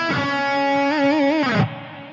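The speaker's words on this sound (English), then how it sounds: "If you want to delay the vibrato on the last note, certainly you could. It would sound like this." A held electric guitar note starts straight, then its vibrato begins late and wavers before the sound cuts off, sustained and loud.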